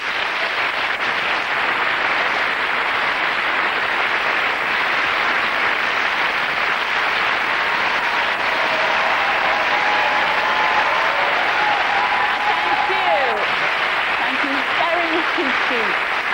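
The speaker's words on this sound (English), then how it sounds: "Ladies and gentlemen, big round of applause for our Kirsten and Mark." A studio audience on a dating show claps for a couple, a dense, continuous wall of applause lasting the whole stretch, with faint voices and music tones peeking through under it.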